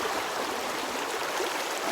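A creek swollen by the rain of tropical storm Helene in the mountains rushes in a dense, continuous broadband wash, steady and fairly loud throughout, with no talking.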